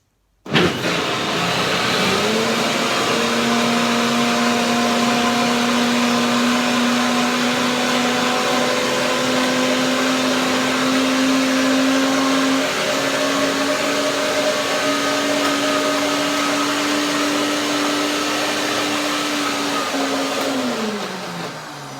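A blender whirs steadily while blending hazelnut cream for a tart, a loud, continuous motor whine holding for about twenty seconds before winding down at the end.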